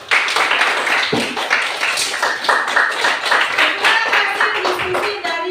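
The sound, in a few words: applause from a class of students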